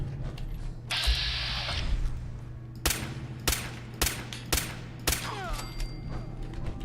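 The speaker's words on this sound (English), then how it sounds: "so that is the machine gun turret." A machine gun turret in the video game Fallout 4 fires a series of sharp, loud bursts in a fairly even rhythm, following a short mechanical whirr, over a low game background hum.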